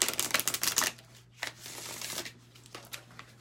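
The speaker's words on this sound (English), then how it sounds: "I am going to shuffle them for you until I feel like I should not shuffle them anymore" Tarot cards being shuffled by hand, a dense riffling burst up front followed by quieter, scattered flicks and slides of the cards, close and with no talking.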